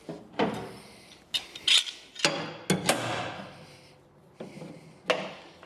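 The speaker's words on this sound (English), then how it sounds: "grab a clamp and clamp this down" Metal clamp ratcheted down onto a steel headache rack for a truck bed in a workshop: a series of sharp clicks, clanks and scraping bursts at close range, irregularly spaced with brief pauses between them.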